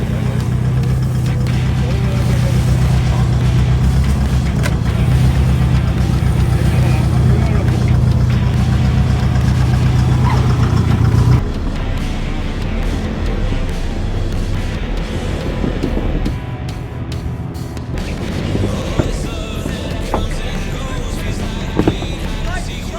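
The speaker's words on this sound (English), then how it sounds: "So I'm gonna go up this in full low, idle it really slowly" A 4WD vehicle idles slowly in low range up the bank of a flooded river crossing, a steady low engine rumble that shifts partway through, with water and rough-terrain noises and occasional talk from people.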